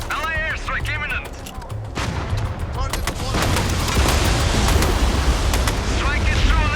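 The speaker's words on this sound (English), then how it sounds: "LA airstrike imminent!" Airstrike explosions and heavy gunfire in the Mindseye video game form a dense, loud, continuous barrage, swelling to a heavier roar partway through, with shouted voices cutting across the battle noise.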